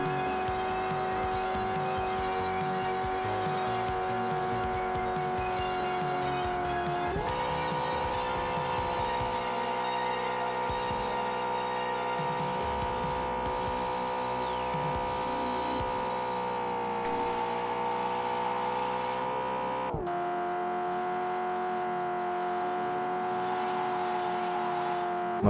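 A car drifts around the Urban Coast track in the arcade racer Drift Stage, its engine droning in sustained pitched tones that shift as gears change, with a long tire squeal sliding through the middle and a sharp change near the end.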